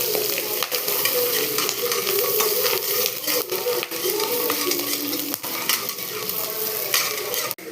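Garlic sizzles and fries in a pan for home-style chicken rice as it is stirred, a steady close crackle broken by a few scrapes and light clinks of a utensil against the pan.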